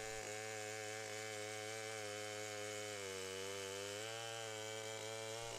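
A chainsaw runs steadily through performance testing at a wood-fuel production plant, a continuous buzzing engine drone with a slight dip in pitch midway, moderately loud and alone.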